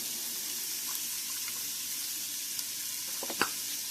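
Onions and celery sizzle softly in a skillet of melted butter and avocado oil, a steady faint frying hiss with a few small clicks and a brief utensil knock near the end.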